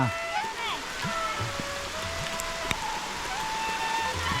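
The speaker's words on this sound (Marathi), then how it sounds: "पावसाची सुरुवात झालेली आहे" The first monsoon rain falls in a Konkan village as a steady, even hiss of drops, with children's voices and chirps rising over it and a single sharp tick near the middle.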